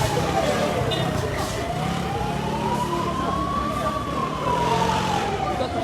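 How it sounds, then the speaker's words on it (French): An ambulance siren wails with a slow rising and falling tone as it passes through a huge peaceful street march in Algiers, sounding steadily over dense crowd noise and chatter. "l'ambulance va finalement pouvoir passer"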